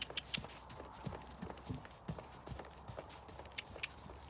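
A horse steps carefully over raised ground poles, its hooves giving a steady series of soft, fairly close thuds and clops at an even walking rhythm over quiet outdoor background noise.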